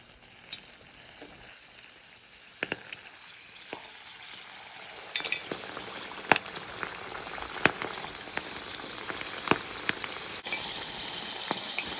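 Cabbage egg rolls frying in peanut oil, a soft steady crackle and bubbling with scattered sharp pops that grow busier over time, close and fairly quiet, with no talk.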